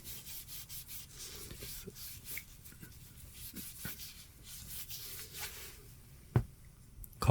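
Wiping the back of a white Nike Air Max Plus sneaker, soft close rubbing swipes in short repeated strokes, quiet, ending with a sharper tap.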